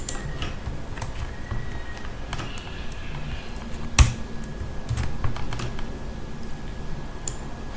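Typing on a computer keyboard, a steady patter of light, close key clicks with one sharper tap midway, over a faint background hum.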